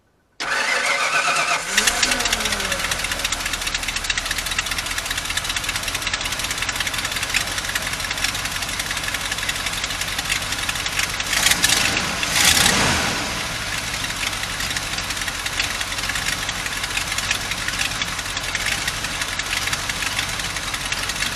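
A carbureted 1994 Ford F150 engine starts with the choke on, catching quickly after a short crank, then settles into a steady, loud idle that runs on close by with a brief surge partway through.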